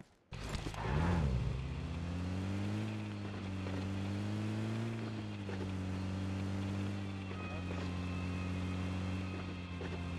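A car driving in the video game PUBG Mobile gives a steady, humming engine drone whose pitch swells and dips gently, with faint wind-like noise over it, heard quietly and without talk.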